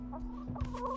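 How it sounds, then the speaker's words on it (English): Faint, brief clucking from chickens in a video game, soft and close, with no talking over it. "Yo, who's messing with the chickens right now?"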